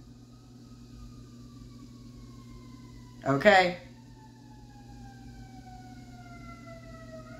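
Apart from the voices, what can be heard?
fire truck sirens out in the street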